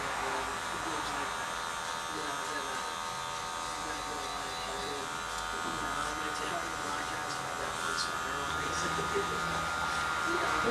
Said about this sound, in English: and I'm going to come up with the clipper.